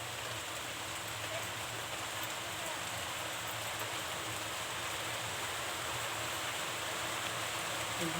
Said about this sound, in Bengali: খুব বৃষ্টি হচ্ছে বাইরে, কিন্তু প্রচুর বৃষ্টি হচ্ছে